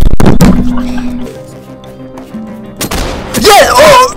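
Shotgun blasts in Garry's Mod, with sharp loud reports at the start and again near the end, separated by quieter game sounds and followed by a shouting voice.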